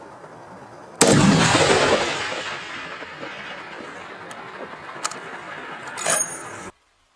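A gunshot during an animal hunt cracks out loud and close, followed by a long rolling echo that fades over several seconds, with a couple of fainter pops later on.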